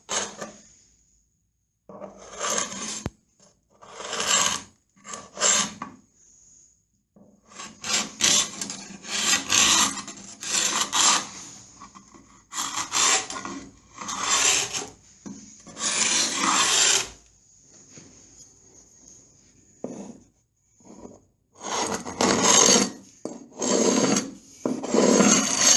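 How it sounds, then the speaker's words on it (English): A shave hook scrapes peeling paint off a plastered wall edge in repeated rasping strokes, each a short burst of dry scratching with brief pauses between, close and fairly loud. "So with my shave hook, just draw it down that edge, come straight off."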